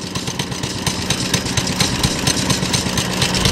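A mini bike engine fitted with a hot cam runs loud and close, its steady, lumpy, pulsing beat holding throughout with no one talking.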